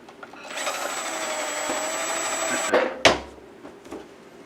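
A power drill whirs steadily for about two seconds at close range, drilling into a vintage solar walkway light, then stops, followed by a sharp clack and a few light knocks.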